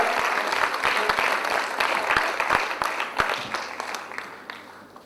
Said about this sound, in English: let's have another round of applause for ma'am here